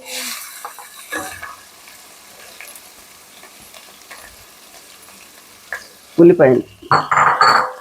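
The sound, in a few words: frying onion with ginger, garlic and spices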